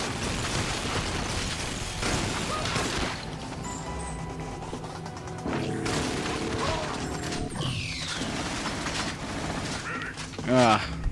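Gunfire in the Xbox shooter GoldenEye: Rogue Agent, clattering shots and mechanical impacts mixed with crashes and explosions in a busy game scene, while a person talks over much of it.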